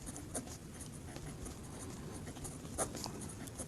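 A maths equation being written out by hand, a faint, continuous scratching of pen or chalk under steady background noise, with a few slightly sharper strokes near the end.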